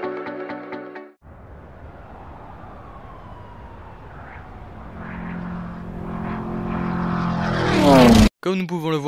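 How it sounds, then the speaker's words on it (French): Propeller-driven aerobatic stunt planes from a racing game trailer drone and swell, rising into a loud roaring pass near the end that cuts off abruptly, with music at the start and finish. "nous aurons donc comme nouveauté des avions de voltige afin de pouvoir parcourir le ciel des USA"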